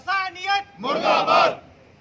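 A rally crowd in Karachi roars a slogan back in unison after a single leader's voice calls it out, the mass shout swelling loud and close for about a second.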